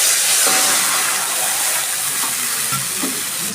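Spices with bay leaves and cumin powder frying in a pan for a vegetarian milk potato curry, a loud continuous sizzle with bursts of steam and hiss, close up and without talk.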